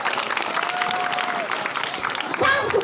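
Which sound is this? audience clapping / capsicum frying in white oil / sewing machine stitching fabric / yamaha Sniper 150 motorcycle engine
audience clapping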